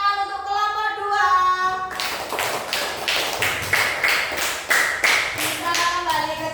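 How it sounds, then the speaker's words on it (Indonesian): Schoolchildren in a class 3 classroom break into rhythmic group applause for a presenting group, a steady run of close, bright claps lasting several seconds after a short tonal passage. "Beri tepuk tangan untuk kelompok 2."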